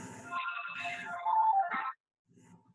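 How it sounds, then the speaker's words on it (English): A cell phone rings indoors with a bright, tonal electronic ringtone lasting nearly two seconds, followed by silence and then a faint trace of sound. "there's my cell phone"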